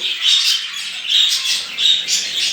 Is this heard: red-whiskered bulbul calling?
yes